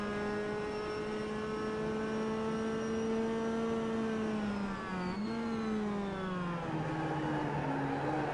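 A Mazda MX-5 race car at Barber circuit holds a steady high-revving engine whine that dips briefly around the middle as it lifts off, then climbs and settles again, faint and distant with no talk.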